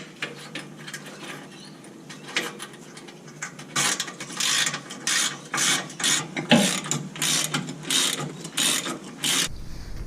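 Ratchet wrench tightening recovery point bolts onto a spacer on a Nissan D22 Navara, a series of close, rhythmic clicking ratchet strokes in repeated bursts, with no talking.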